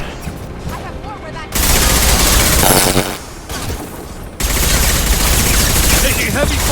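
Heavy gunfire in Mass Effect 2 erupts as sustained, loud barrages, with a dense burst of shots followed by a brief lull and then another prolonged volley, mixed with combat noise and some voice.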